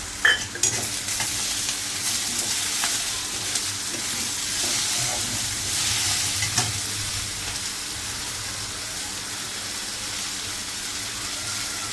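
Tomatoes added to onions already cooked to a light pink, frying and sizzling in a pan with occasional stirring, a steady close hiss throughout with a sharper burst near the start.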